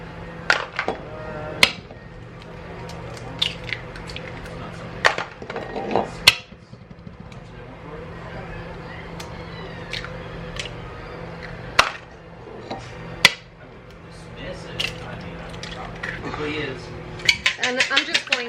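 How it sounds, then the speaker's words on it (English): Eight eggs cracked one after another into a bowl in a homestead kitchen, giving sharp, separate taps and clinks of shell against the rim, close and fairly loud, with quieter handling and kitchen clatter between the hits. "the first thing I'm going to do is I'm going to crack 8 eggs"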